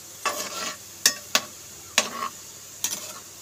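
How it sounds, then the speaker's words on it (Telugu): Gulab jamun balls frying in oil, a quiet sizzle broken by about five sharp stirring scrapes and taps against the pan, with no talking. "గోల్డెన్ బ్రౌన్ వచ్చేదాకా అటు ఇటు అంటూ వేయించుకోవాలి."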